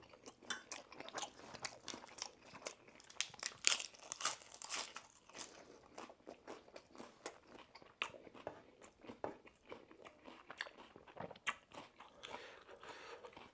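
Close, crisp crunching and chewing of spicy Mama instant noodles, a rapid irregular stream of bites and crinkly mastication with no talk, loud and near throughout.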